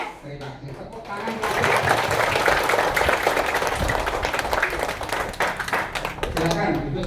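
Schoolchildren in a primary school hall clapping their hands together, a burst of fast, rhythmic, fairly loud clapping that swells after a quiet start and tapers at the end.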